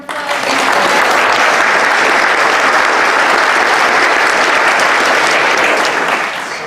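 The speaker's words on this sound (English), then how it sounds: "so we can give him a round of applause" An audience at a church-hosted gathering breaks into loud, sustained applause, dense clapping from many hands rising quickly and holding steady for several seconds before tapering slightly.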